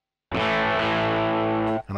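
Electric guitar played through a Marshall amp model on a Line 6 HX Effects unit, one sustained distorted chord ringing loudly for over a second before being cut off.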